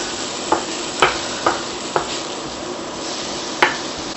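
Chopped onions frying in a pan, a soft steady sizzle under repeated sharp clacks of a utensil against the pan as they are stirred, close and without talk.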